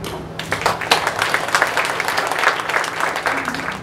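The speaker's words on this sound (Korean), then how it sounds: "박수로 환영합니다." Audience applause at a Korean retrospective ceremony for a nakjuk (pyrography) bamboo artist in a cultural arts hall, steady dense clapping that starts abruptly and holds evenly throughout, with a faint low hum underneath.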